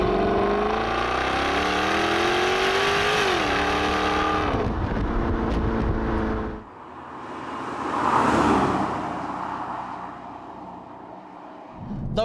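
A Jaguar XKR-S GT accelerating hard, its engine note climbing through gears with a brief shift dip, then the roar fades into wind and road rush as it pulls away, with no talking.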